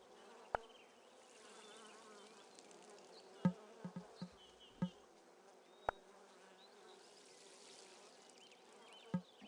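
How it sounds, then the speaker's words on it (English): Bees buzzing in the farming video game Wylde Flowers, a soft continuous drone under faint background sounds, with a few sharp clicks and plops scattered throughout. "I kind of enjoy the sound of bees."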